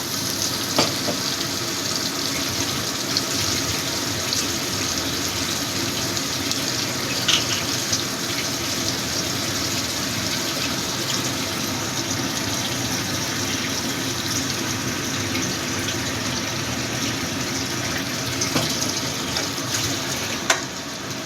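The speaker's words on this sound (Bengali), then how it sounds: "মিক্সিং জারটা ধুয়ে একটু জল দিয়ে দেবো।" A continuous watery hiss runs throughout as water goes into a mixer jar to rinse out leftover spice paste, steady and close without pause, with a few faint clinks and no talking.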